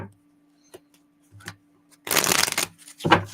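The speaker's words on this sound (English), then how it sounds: "I just heard 2 more shuffles" A few soft taps and clicks, then a quick, loud riffle of tarot cards being shuffled, followed by another short shuffle.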